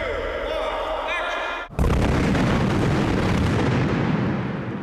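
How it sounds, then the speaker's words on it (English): Pyrotechnic charges burst on a half-scale model set for a dragonfire impact shoot, starting with a sudden loud blast and then a dense, sustained roaring rumble of explosions that carries on to the end. "where the dragonfire lands, you'll see all the pyrotechnic charges going off"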